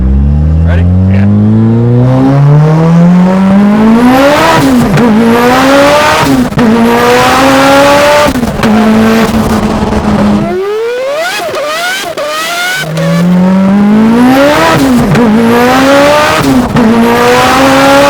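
A 943hp Mitsubishi Evo 9 accelerates hard, its engine climbing through repeated rising gear pulls with sharp shifts between them and a brief lift midway, loud and close from inside the car.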